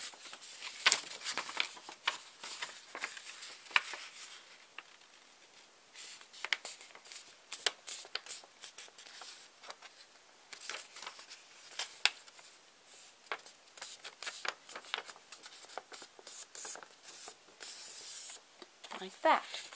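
Paper folded and creased for an origami rose, close crisp rustles and crinkles in irregular bursts throughout, with soft speech now and then.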